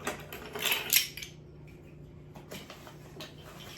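A metal tablespoon pulled from a drawer of cutlery, a quick cluster of bright jangling clinks up front, then a few lighter taps in a quiet kitchen.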